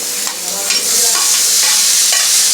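Tomato and two whole green chilies hit a hot frying pan with very little oil, setting off a loud, steady broadband sizzle that swells and holds, broken by a few soft stirring scrapes.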